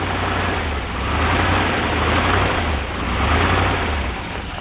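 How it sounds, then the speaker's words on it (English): An old Ford car engine idles steadily with a low, even rumble and a slight rhythmic pulse, close and continuous with no talking. "That's a pretty nice running motor."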